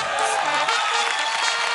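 Sustained applause from a studio audience at an Indian televised children's dance competition, a dense, even roar of clapping throughout.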